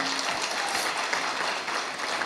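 An audience at a Tamil debate stage show applauds, a dense, steady wash of clapping that lasts the whole moment without pause.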